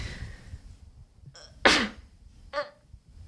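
A single sharp sneeze bursts out, loud and close, followed by a smaller second sneeze-like burst a moment later, with quiet room noise between.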